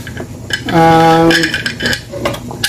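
A lid set onto a cooking pot of tinola fish soup made with matambaka fish, giving a loud metallic clang that rings for about half a second, followed by faint clatter of utensils.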